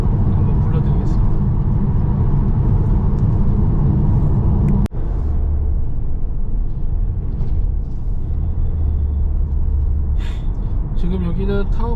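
Car cruising along a scenic lakeside road north of Lake Taupō in New Zealand, a steady close road rumble and engine drone that runs throughout with a brief dip midway.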